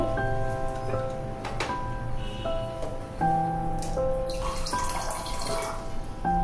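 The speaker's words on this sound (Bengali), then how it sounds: "ব্রেড জল দিয়ে একটা ভিজিয়ে দেব। ব্রেডগুলি জল দিয়ে ভিজিয়ে নেব।" Water poured over slices of bread to soak them for a quick homemade breakfast, a steady running trickle and splash close by with faint clinks, no talking.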